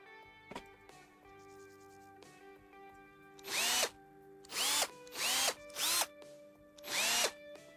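Power drill in the game Gas Station Simulator whirring as it loosens screws: five loud bursts of spinning and ratcheting, each rising in pitch, with quieter clatter and tones before them and no talk.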